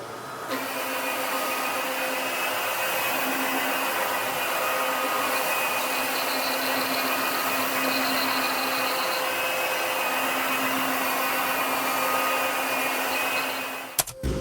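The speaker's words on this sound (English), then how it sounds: "You can see we're tacking and vacuuming now." A vacuum cleaner drones steadily and loudly over a screened, on-site finished walnut hardwood floor during sandless refinishing, a continuous whine that cuts off abruptly at the end.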